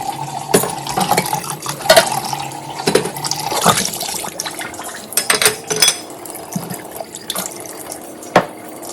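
A kitchen tap runs while dishes are washed by hand at the sink, with steady water flow broken by frequent clinks and knocks of plates and utensils, close and fairly loud.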